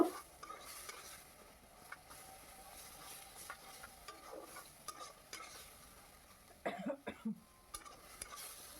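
Onion paste stirred in a frying pan, a soft, faint sizzle with light scraping strokes and a few louder clatters of the utensil near the end.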